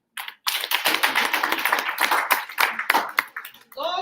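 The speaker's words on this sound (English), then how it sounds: "Let's give them a hand of applause." Applause for a teenage group at a youth event: dense bursts of hand clapping starting after a brief pause, fairly close and steady, with a short voice at the very end.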